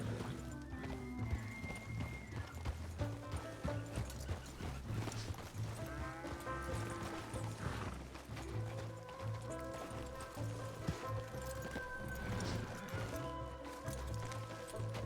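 Horse hooves clip-clopping in a video game, a steady rhythmic trot with an occasional whinny, layered under game music and effects.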